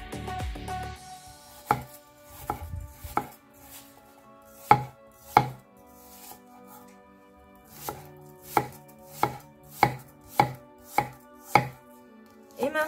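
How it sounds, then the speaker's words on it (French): A knife chops chives on a cutting board for a soy vermicelli and chicken stir-fry: sharp, crisp taps, scattered at first and then a steady, quicker run of about a dozen strikes, close and clear in a quiet room. "émincer la cive."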